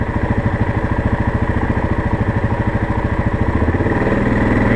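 Motorcycles running on a winter trail, race bikes and a trike among them, a steady close engine drone with a throbbing low pulse that grows slightly louder near the end.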